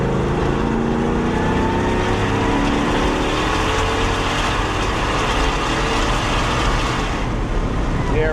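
A 1976 Ford Bronco accelerating out of a roundabout and driving up toward highway speed, giving a steady, loud engine drone and road roar that stays constant throughout without pauses.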